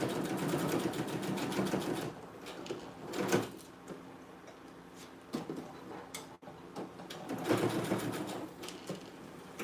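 A sewing machine runs through thick material for dog clothes in quick bursts, rapid mechanical stitching ticks rising and stopping several times, with clunks and pauses between runs, close and fairly quiet.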